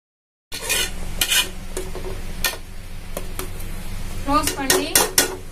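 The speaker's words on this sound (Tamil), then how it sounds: "இப்ப ரவையை ஆட் பண்ணிடலாம்." Semolina goes into a pot of boiling salted water for rava upma and is stirred with a metal spoon, producing close, irregular clinks and scrapes against the pot over a soft bubbling sizzle.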